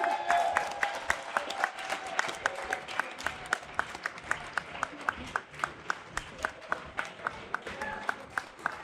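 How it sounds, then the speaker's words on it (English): Applause at a city gala ceremony in Newark, with scattered claps from a crowd and a few sharp, louder individual claps standing out, steady for several seconds. "Y'all better clap for them."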